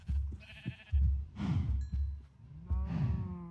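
Sheep in the Minecraft video game bleat several times in short, nasal calls, close and fairly loud, separated by brief pauses with soft footsteps and rustling between them.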